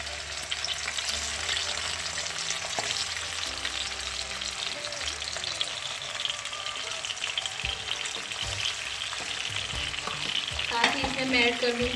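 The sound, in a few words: chicken pieces frying in cooking oil in a kadai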